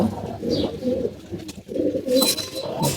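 Low, soft pigeon coos repeat in a gentle rolling rhythm, close up, with a few faint rustles and flutters between them.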